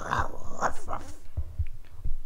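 A person imitates a dog with a voiced growling, barking sound, several rough bursts at moderate loudness, close to the microphone.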